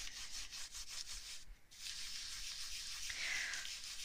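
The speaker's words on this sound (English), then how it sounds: "take the steel wool and rub right on top of the black side" Steel wool rubbed in circles and back-and-forth strokes over the black side of an artist trading card, a steady close scratchy rasp that runs almost continuously with one brief pause.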